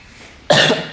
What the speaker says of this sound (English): I'm about to start coughing.